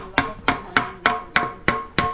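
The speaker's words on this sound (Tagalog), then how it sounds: "papaluin natin yan ng martilyo" Seven sharp, evenly spaced hammer blows drive a plastic bracket into a security screen door frame, close up, in a steady rhythm with no talking.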